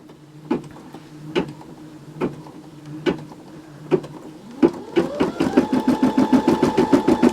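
Embroidery machine stitching an in-the-hoop Christmas ornament, starting with a few spaced single clicks, then speeding into a rapid, regular mechanical stitching rhythm with a rising whir.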